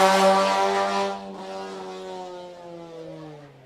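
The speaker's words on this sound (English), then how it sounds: "God, that car is loud, eh?" A loud rallycross race car, a VW Golf on a Kenyan track, roars close by with a strong harmonic engine tone that drops in pitch as it passes and pulls away, continuing steadily.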